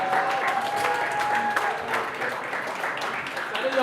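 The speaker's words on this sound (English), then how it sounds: "With a standing ovation, let's welcome" A crowd gives a standing ovation to welcome a YouTuber at a creators' meetup, a sustained wash of clapping with cheers and voices mixed in throughout.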